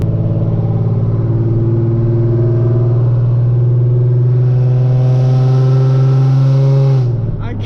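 A Genesis Coupe with NGM headers holds a loud, steady exhaust drone as the engine revs in a sustained mid-range, close and continuous before cutting off near the end.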